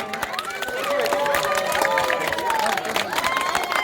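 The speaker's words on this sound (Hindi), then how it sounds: "तालियां बजाएं।" A crowd applauds at the unveiling of a Dr. B.R. Ambedkar statue in Kudan, dense steady clapping and cheering mixed with voices and tonal sounds throughout, fairly loud.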